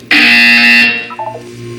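A loud electronic buzzer from the video game Portal 2 sounds as one sustained, harsh tone lasting about a second, then fades into a soft chiming tail and a low hum.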